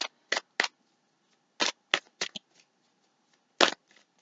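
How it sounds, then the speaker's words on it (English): Tarot cards being shuffled by hand in a quiet room: sharp, brief riffling bursts in uneven clusters with short pauses between, close and fairly loud, with no talking. "I don't know why I'm shuffling."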